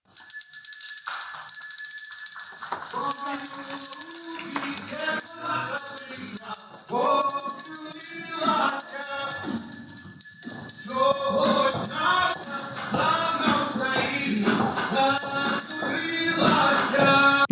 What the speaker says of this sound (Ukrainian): але перший дзвоник для діток пролунав